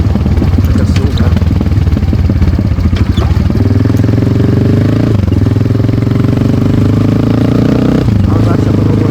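A Defender 250RR motorcycle engine on a slow ride, a loud, close rattling putter that settles into a steady hum with brief dips as the throttle eases, while a voice talks over it.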